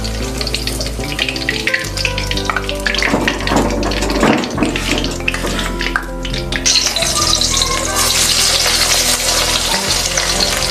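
Onions fry in the same oil used for dal chicken kofta, in a kadai: a loud, steady crackling sizzle, with bursts of stirring and a brighter, harsher hiss toward the end, and no talking.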